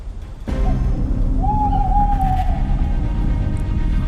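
A single drawn-out owl hoot sounds over a steady low rumble of a vehicle interior, faint and somewhat distant.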